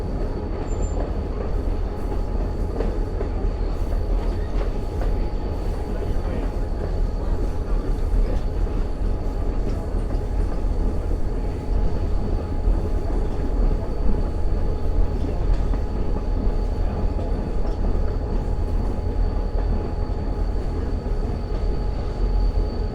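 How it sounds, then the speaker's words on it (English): A vintage open-air railway car rumbles steadily along the rails through the Lehigh Gorge, a continuous heavy low roar with faint squealing and clatter throughout, no talking. "Our train is entering Oxbow Curve now."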